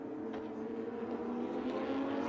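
Porsche 911 GT3 Cup 991.2 race car with a flat-six boxer engine, running in qualifying at Portimão, gives a continuous engine drone heard at a distance as a fairly even, steady roar.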